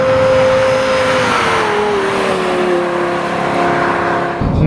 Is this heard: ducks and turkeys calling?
no